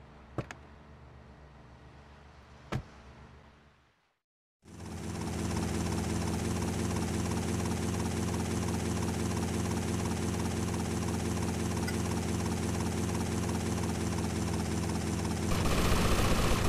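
Helicopter in GTA Vice City Stories: after a few seconds of quieter ambience with two sharp clicks and a brief silence, a loud, steady rotor and engine drone starts and holds continuously to the end.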